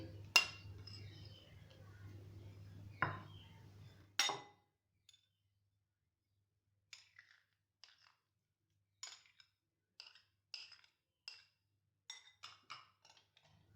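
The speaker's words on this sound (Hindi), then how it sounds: "अब हम एक बाउल लेंगे और उसमें ये तमाम अज्जा मिक्स कर देंगे" Spring roll filling ingredients are stirred in a bowl. A low hum gives way to faint, scattered clinks and taps of a utensil against the bowl, coming in irregular bursts.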